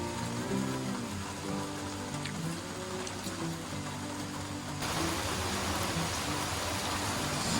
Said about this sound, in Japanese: すごいね、この雨降りの中。